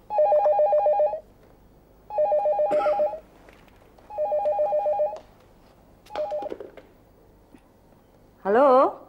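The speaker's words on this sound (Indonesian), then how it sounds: "Tia, telepon nih" An indoor telephone rings in four evenly spaced electronic bursts, each about a second long, fairly close and clear, followed by a brief different tone at the end.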